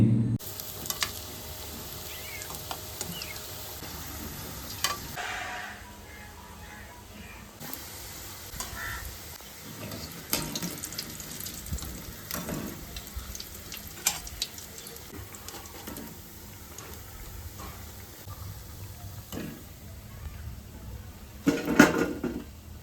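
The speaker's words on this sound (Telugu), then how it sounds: "ఇలా వేసుకున్న పిండిని గోల్డ్ కలర్లోకి వచ్చే వరకు అటు ఇటు తిప్పుతో అయితే వేయించుకోండి" Onion pakoda batter deep-frying in hot oil and being turned until golden: a steady close sizzle and crackle with intermittent scrapes and clinks of a ladle against the pan.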